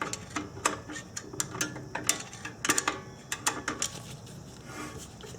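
Parking brake shoe adjuster wheel on an Acura TL turned by hand, giving a quick run of sharp ratcheting clicks in irregular bursts, close up and fairly quiet, with no talking.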